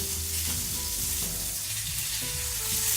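Pork tenderloin searing in a hot pan, a loud continuous sizzle and crackle of frying meat, close up and steady throughout with a few soft stirring or shifting sounds.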